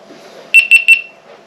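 Three quick, bright electronic beeps from a GoPro HERO 4K action camera as it powers on, evenly spaced and loud and close, with a short fading tail and no other sound.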